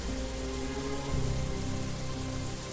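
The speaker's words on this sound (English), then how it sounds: "and rain came down." A dense, steady hiss of rain falls on surfaces, loud and continuous with no voices, used as a sound effect in an audio drama.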